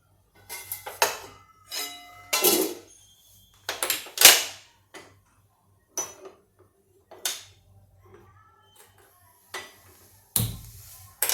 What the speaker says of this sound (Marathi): कढई हलवून घेतेही ही आणि इकडे ठेवते